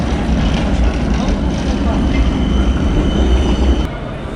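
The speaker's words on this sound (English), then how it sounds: "I love those kind of trams going past" A Helsinki tram rumbles past close by, a loud continuous rolling roar with a faint wheel squeal near the end and a slight drop in level as it passes.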